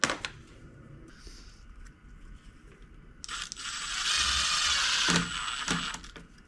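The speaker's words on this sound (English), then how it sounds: "Now we're just going to take and put some screws in the side." A screw being driven into the side of a dust collector, a quiet start with small clicks, then a loud grinding whir of the drill lasting a couple of seconds, close by.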